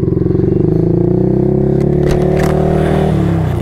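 A Yamaha R15 V3 motorcycle engine runs loud and close, with a rapid pulsing throb that rises in pitch as it revs and then eases back.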